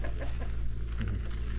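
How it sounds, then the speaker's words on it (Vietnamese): Thai chickens clucking close by on a farm near a jungle stream, short irregular clucks with a low steady background rumble and no talk. "Gà Thái nha cả nhà"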